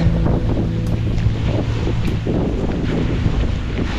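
Strong storm wind buffets the microphone in a continuous loud, low rumble, steady throughout with no breaks.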